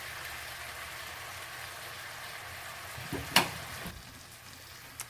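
Steak cooks rare in a pan with a faint, steady sizzle, joined near the end by a short burst of scraping and a sharp clink as the meat is handled.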